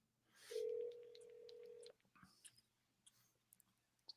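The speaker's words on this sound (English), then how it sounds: "so I'm actually going to call her back" A phone dialing out to return a call: a steady electronic tone held for over a second, followed by faint clicks and soft ticking, quiet and close.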